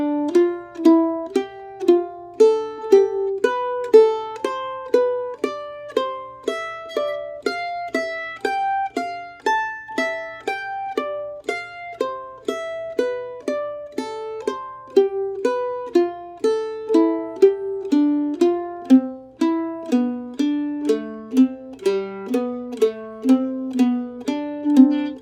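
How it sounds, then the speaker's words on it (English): A mandolin plucks a D Dorian mode scale in a clear, even run of single picked notes, each note ringing and decaying in a steady rhythm, played close with no talking. "For the D Dorian mode, that scale pattern will sound something like this."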